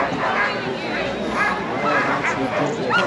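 Sled dogs bark and yip excitedly at the start of the 2023 Iditarod race in Alaska, a steady clamor mixed with crowd chatter and nearby voices talking.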